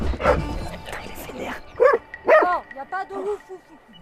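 A big Belgian Malinois military dog lets out a run of barks and agitated yelps, with whimpering, tonal cries, loud and close, mixed with bursts of human voices.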